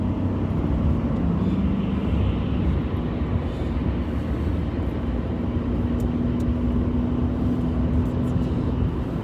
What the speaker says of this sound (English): the Corvette C8, he just passed me on the inside